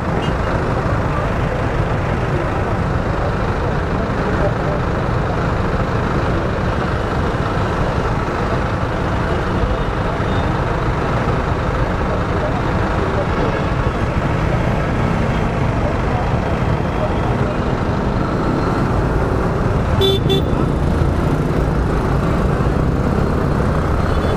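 Dense road traffic on a route from Cavite, with trucks and buses producing a continuous loud rumbling engine roar and road noise, plus a brief sharp horn-like tone near the end.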